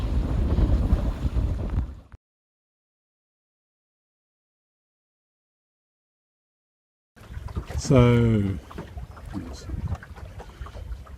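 A sailboat sets out early from Tarbert on Loch Fyne, with wind buffeting the microphone and water rushing alongside. Someone talks over it, and a stretch of total silence breaks the clip in the middle.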